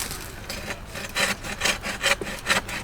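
A saw cutting off a rotten side branch of a tree, rapid rhythmic rasping strokes, about eight back-and-forth pulls, close and clear with no talking.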